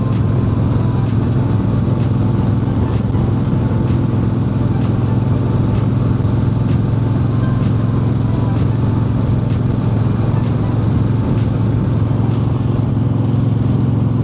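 A motorcycle fitted with new TC Bros. mid controls rumbles steadily while riding, a loud continuous low engine drone with wind noise and no talking throughout.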